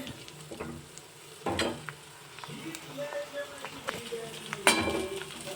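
Sev made from leftover rice fries on medium heat in a pan, giving a soft sizzle close by, broken by several clinks and scrapes of a utensil against the pan, with no talking.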